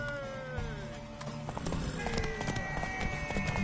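Horse hooves clopping close by while a horse neighs in a video game, with bursts of game music and background clatter mixed in.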